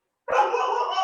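A dog barks continuously at close range in a single sustained burst, with a bright, yippy edge and no speech over it.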